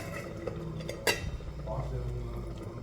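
Rava upma being stirred in a pan, then the pan covered with a plate; soft scraping under a low background hum, with one sharp metallic clink of the plate near the middle.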